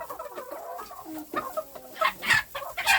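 Bantam roosters and hens cluck in a breeding pen, a busy overlapping chorus of short calls and squawks at close range that rises into louder bursts toward the end.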